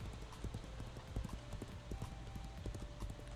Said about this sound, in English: I had to get off my horse to do things like harvest this stuff